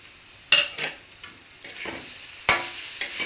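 Coconut, sugar and raisins frying in a spoonful of ghee for a poli filling, soft sizzling punctuated by several sharp scraping stirs of a spoon against the pan, close and without talk.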